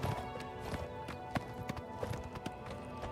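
Horse hooves clip-clop in a steady trotting rhythm, loud and close, as a mount tries to climb a wall in Oblivion Remastered, with other game sounds underneath.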